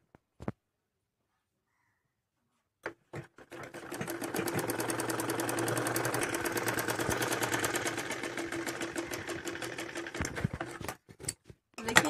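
Electric sewing machine stitching a folded 2-inch-wide fabric strip, running in a steady continuous whir for several seconds after a few brief clicks, then slowing and stopping with short bursts.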